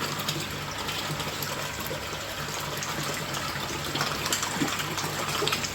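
Koi in a pond churn and splash at the surface while feeding on pellets, a continuous close wash of rushing, gushing water that grows slightly busier toward the end, with no voices.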